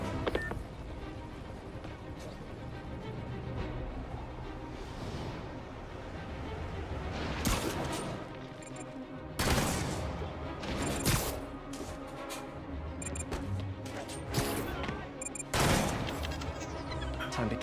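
Sniper gunfire from rooftop enemies in Spider-Man Remastered, sharp cracks and bursts scattered irregularly over a dense, noisy game soundscape of action and impacts, some shots loud and close, others distant.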